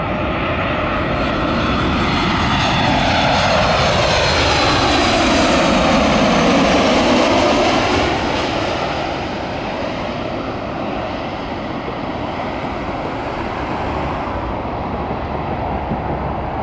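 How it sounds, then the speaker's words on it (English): A fixed-wing airplane passes low over the runway area near Cleveland airport, its engine roar swelling loud and close, peaking midway, then settling into a steady rumbling drone as it moves off. "And we got a plane."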